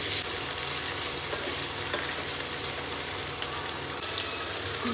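Cumin seeds, onion, ginger and garlic fry in oil in a pan, giving a steady, close, dense sizzle that runs evenly throughout without pause.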